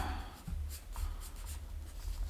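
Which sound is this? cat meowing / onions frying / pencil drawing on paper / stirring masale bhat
pencil drawing on paper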